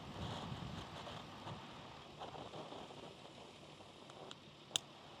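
Steady, faint wind noise rushes and buffets throughout, with a sharp brief click near the end.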